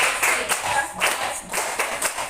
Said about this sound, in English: Let's give Nathaniel a best clap